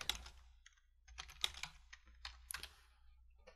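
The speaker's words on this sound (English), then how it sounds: "So we'll just type in the command to get that." Keystrokes on a computer keyboard while a command is entered during an OpenStack Compute install, coming in short uneven bursts of clicks with pauses between them, quiet and close, with no talking.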